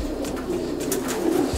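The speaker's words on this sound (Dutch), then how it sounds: "Deze duiven hebben nu allemaal jongen van een dag of 2." Domestic Belgian racing pigeons coo in a loft while sitting on nests with two-day-old young, several birds making steady low rolling coos that overlap continuously close by.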